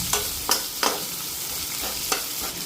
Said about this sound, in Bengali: পেঁয়াজটা ফ্রাই করুন